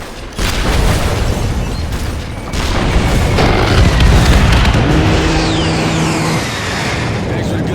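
Heavy booms and rumbling blasts from an A-10 Thunderbolt II attack run in a war setting, loud and sustained with a whining tonal hum partway through and radio-style voices faintly mixed in.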